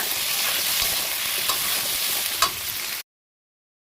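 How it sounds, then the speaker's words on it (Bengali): Potatoes frying in a pan with salt and turmeric, made for a fish and cauliflower curry, give a steady loud sizzle with a few stirring scrapes for about three seconds, then cut to silence. "হলুদটা দিয়ে দিলাম, এখন একটু ভেজে নিচ্ছি।"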